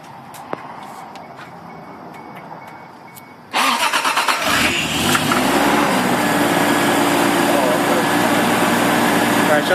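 A car engine with rod knock cranks and catches a few seconds in, then runs loud and close with a rough, steady clatter for the rest of the moment.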